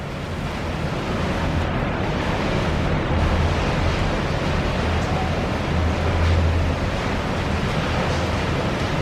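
Steady broadband rush of wind buffeting the microphone outdoors in Macau the morning after a typhoon, with low rumbling gusts swelling and easing throughout, and a faint watery wash underneath.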